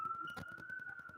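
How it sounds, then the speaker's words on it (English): A police siren outside holds a thin, steady high tone, faint and distant beneath a person talking nearby. "You're going to hear sirens when I'm here"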